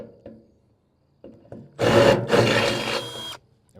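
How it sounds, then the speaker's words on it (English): A hole being drilled into a galvanized metal tub outdoors: a close, loud burst of drilling lasting about a second and a half with a brief dip in the middle, preceded by some light handling clatter. "So we're going to drill a hole right there."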